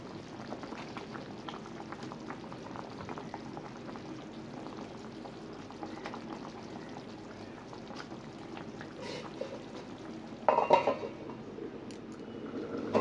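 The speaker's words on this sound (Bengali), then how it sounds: "ঝোলটা ফুটে উঠেছে" Fish curry broth boiling in a pot, a continuous low bubbling with faint pops at steady volume, close by, with a brief louder clatter near the end.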